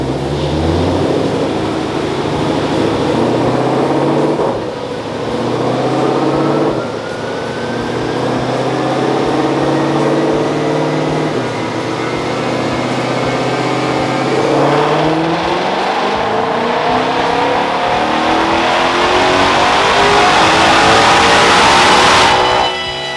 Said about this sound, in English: We got it strapped to the dyno here because we did some upgrades to it.